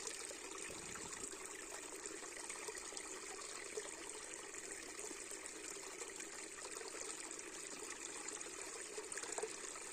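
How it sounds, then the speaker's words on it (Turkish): Steady flowing water in a village setting in Develi, a continuous broadband rush with a trickling edge, moderately faint and unbroken for the whole stretch, with no talking. "Su sesi, su."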